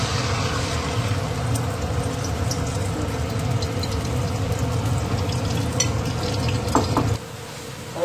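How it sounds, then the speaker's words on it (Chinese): Eggs stir-fry in a hot pan, a steady, close sizzle with faint crackles that runs for several seconds and then suddenly drops lower near the end. "把鸡蛋炒熟"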